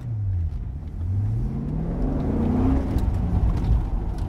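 A 2007 Corvette Z06, A-Street prepped, accelerates on throttle at an autocross event, its engine note climbing in pitch through a couple of rising sweeps, loud and close, with no talking.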